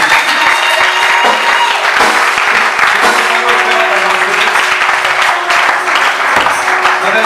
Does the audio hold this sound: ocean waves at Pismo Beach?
no